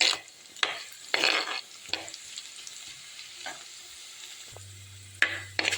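Curry leaves and onions frying in a pan for fish curry, a steady sizzle broken by repeated bursts of stirring and scraping, close and fairly loud with no talking.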